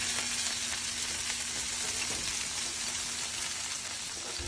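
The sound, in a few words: emu meat searing in a pan, pressed down by hand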